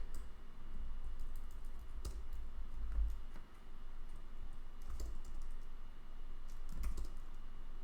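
Computer keyboard keys clatter during a coding session, with irregular soft clicks and a few sharper thumps, close and steady under a quiet room hum.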